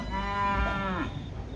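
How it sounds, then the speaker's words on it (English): Cattle at a campdraft moo in one long, loud, drawn-out bellow that rises and then trails off into surrounding outdoor noise. "round up the cattle and bring them in."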